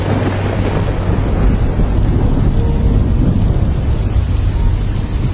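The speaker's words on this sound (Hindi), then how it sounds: "बहुत जोर की बारिश होने लगी" Heavy rain pouring steadily with deep rolling thunder underneath, a loud continuous downpour used as a horror story sound effect, with no voices.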